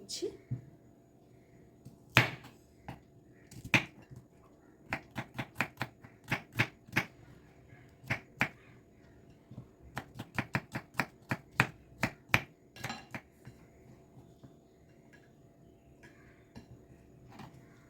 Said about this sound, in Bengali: এই পেঁয়াজটাকেও আমি এখানে কুচিয়ে